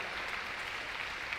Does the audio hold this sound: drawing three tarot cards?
no